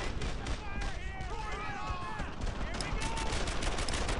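Heavy rifle and machine-gun fire in the World War II shooter Brothers In Arms: Earned In Blood, dense overlapping shots with shouted squad commands in between.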